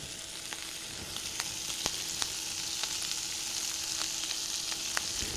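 Cabbage and bacon fry over high heat in a pan, a continuous bright sizzle with scattered sharp pops and crackles throughout and no talking.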